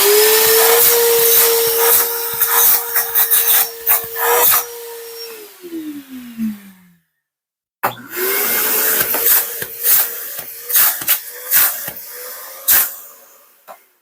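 A DeWalt Stealthsonic 12-gallon shop vac, rated 5.5 horsepower, runs with a steady motor whine and rushing suction, then winds down and briefly goes silent. It starts up again with loud, close airflow broken by intermittent clunks.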